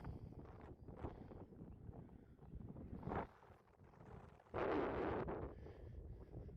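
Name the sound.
wind on an exposed hilltop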